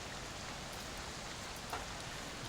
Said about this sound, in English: the rain just pours back down on top of you